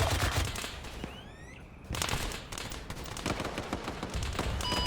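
Dense gunfire from the Arma 3 video game during a combat operation in Sierra Leone, loud rapid overlapping shots with a brief lull before the firing resumes hard.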